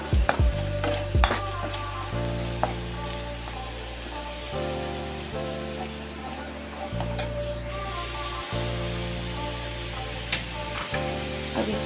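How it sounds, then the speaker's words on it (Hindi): Spices and ingredients for a cucumber curry fry loudly in a pan, with a constant close sizzle and scattered clinks of a spoon stirring. "इसको भून लेते हैं।"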